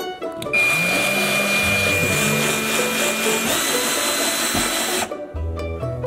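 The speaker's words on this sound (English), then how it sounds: "So let's go ahead and drill some holes." An electric drill bores holes into a wall to mount a bracket for an electric fireplace, a loud close whirring drone that runs steadily for several seconds, shifts pitch briefly, then cuts off with a short burst after.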